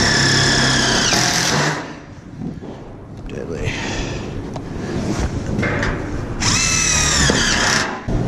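A power drill drives screws into a metal door frame in loud, whining bursts at the start and end, with a quieter stretch between. Someone talks over it.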